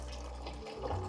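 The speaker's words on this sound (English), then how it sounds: "This is the filling the pot for boiling the pasta." Tap water runs into a cooking pot being filled for boiling pasta, a brief, quiet, steady rush of water with no speech.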